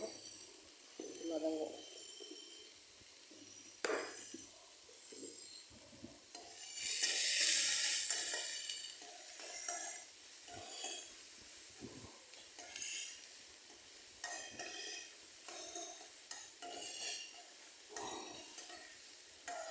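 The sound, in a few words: onions sautéing in a pan for tomato chutney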